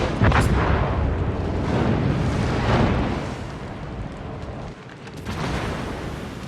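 Warship guns firing shells in World of Warships, heavy booming volleys that roll loudly through the opening seconds, then ease off before another burst of gunfire near the end.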